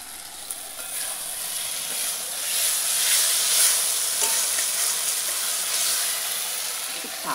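Eggplant being fried and stirred in a pan for a fish and vegetable curry, a continuous close sizzle with occasional utensil scrapes, steady and without speech.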